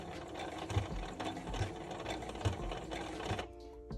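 A sewing machine stitches the corner of a garment bodice, running with a steady rapid mechanical whir and rhythmic needle thumps, close and continuous, then stopping abruptly near the end.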